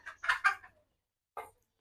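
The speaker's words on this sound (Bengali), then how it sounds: "কিন্তু দুই মোরগে খুব যুদ্ধ করছে" Roosters squabble on a small poultry farm, a quick burst of sharp squawks and clucks followed by a pause and one more short squawk, close but fairly faint, no talking.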